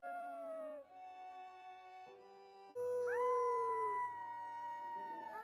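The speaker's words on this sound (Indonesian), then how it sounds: "Mereka pun merasakan kesedihan yang sama dengan mengaum." Animated film scene of a young dinosaur and a boy howling together, long drawn-out mournful tonal cries rising and falling, loud and close with no talk.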